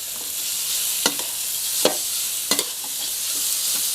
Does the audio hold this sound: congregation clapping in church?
no